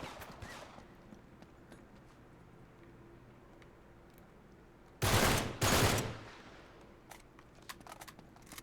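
Gunfire in the Uncharted 3 action game: after a quiet ambient stretch, two loud, rapid automatic bursts rattle out close by, with a few isolated distant shots afterward.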